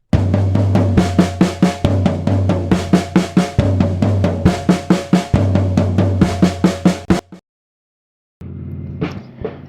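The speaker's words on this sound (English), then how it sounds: "4 hits on the floor tom, 4 hits on the snare," Reversed drum exercise of sixteenth notes, four floor tom hits then four snare hits, repeated in a steady, loud, close pattern that stops abruptly, followed by a short pause and a brief fainter sound.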